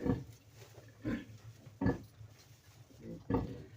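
A sow farrowing calmly in a straw-bedded pen gives four soft, low grunts spaced about a second apart, close by and otherwise quiet.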